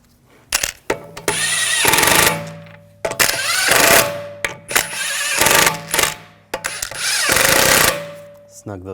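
An impact or power tool runs in several loud bursts, snugging the lug bolts on a 2006-2009 Audi S4 rear wheel after a hub bearing replacement, each burst whirring and rattling then cutting off with short pauses between.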